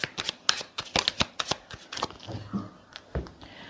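Tarot cards being shuffled by hand, a quick run of crisp riffling snaps and soft slaps at close range, with a few heavier thumps as the deck is squared near the end.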